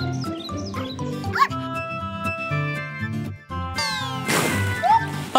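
Several high cartoon kitten meows ring out over bouncy background music, followed by a rising whistling sweep and a splashy effect.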